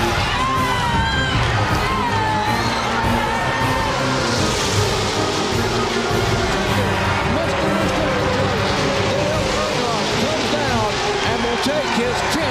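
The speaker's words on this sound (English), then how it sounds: "listen to this crowd of" A huge crowd of about 170,000 roars and cheers at a NASCAR restrictor-plate race at Talladega as Dale Earnhardt goes for the lead, a dense, continuous wall of cheering that runs steadily beneath a commentator talking throughout.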